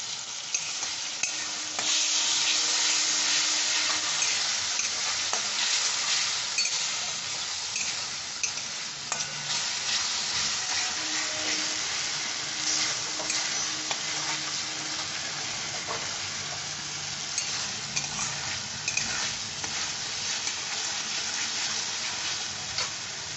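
Onion with ginger paste sautéing in a pan for a vegetable egg devil, a continuous close sizzle broken by repeated scraping and clinking stirs of a spoon, with no talking.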